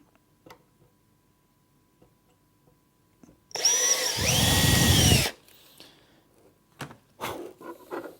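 A power drill whirs loudly for about two seconds drilling into a cabinet during assembly, its motor pitch dipping as the bit bites in, followed by a few light knocks and clatter.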